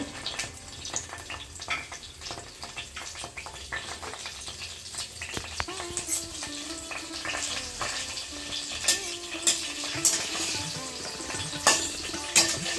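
Whole spices sizzle gently in hot oil in a pan for a vegetarian Bengali chana dal: bay leaf, dried red chillies, cinnamon, cloves, cardamom and cumin, with occasional stirring clinks.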